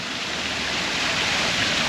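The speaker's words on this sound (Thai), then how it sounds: "เสียงน้ำตก แรงมากนะครับเสียงน้ำตก" A powerful waterfall at the entrance of the freshwater aquarium in Nong Yat, Nakhon Phanom, rushes in a dense, continuous roar, close and loud with no other sounds.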